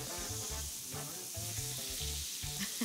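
Pork loin sizzling in a frying pan set on a griddle, a steady crackling hiss close up, with some low tonal sounds pulsing underneath.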